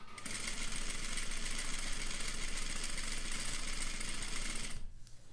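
A sewing machine stitches a bias-cut spaghetti strap with a fast, steady mechanical rattle for about five seconds, then stops abruptly, with no talking.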